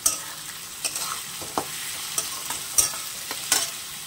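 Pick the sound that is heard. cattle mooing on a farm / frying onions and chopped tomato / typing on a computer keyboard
frying onions and chopped tomato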